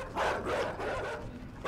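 A dog barks in the video game Inside, in a few rough close bursts that repeat over a steady game backdrop.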